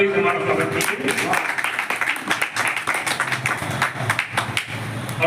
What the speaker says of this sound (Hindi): एक बार जोरदार ताली से हमारा स्वागत कीजिए।